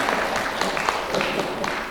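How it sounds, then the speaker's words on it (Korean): Short burst of congregation clapping in a church service welcoming a pastor's wife, dense and fairly close, steady for a moment. "박수 환영합니다."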